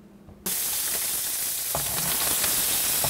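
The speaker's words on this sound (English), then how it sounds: "this goes to the stove and gets browned up until it's a little bit browner" Food browns in a hot pan on the stove for Cajun-style Hopping John, a steady loud sizzle bursting in after a short quiet start and holding on with faint crackles.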